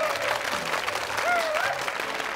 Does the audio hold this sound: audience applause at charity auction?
yes